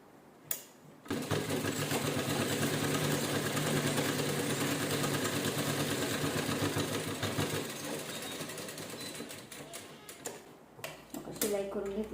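A sewing machine runs a straight seam through canvas with a continuous close mechanical whir and rapid needle ticking for about ten seconds, starting and stopping abruptly, with quiet background noise around it.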